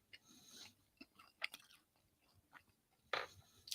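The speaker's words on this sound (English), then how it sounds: "Wait till you hear the crunch on the stromboli." Crunchy bites and chewing on a stromboli, a few quiet crisp crunches spaced apart with a louder burst near the end, close up with no talking.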